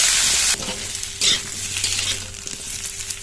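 Potatoes frying in oil previously used for fish in a village-style kitchen crackle with a loud burst of sizzling, then settle into a steadier hiss broken by scraping stirs of a spatula.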